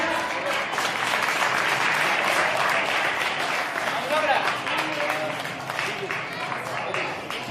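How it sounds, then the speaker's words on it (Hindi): Children at a school's annual sports prize ceremony clap in a thick, continuous wash of applause, with voices talking over the steady clapping throughout. "ताली बजाते रहो।"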